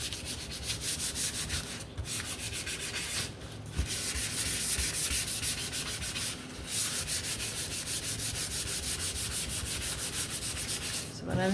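Hand sanding the edges of a wooden snowman craft piece: steady, close scratchy rubbing strokes continue almost without pause, with only brief breaks between passes and no talking.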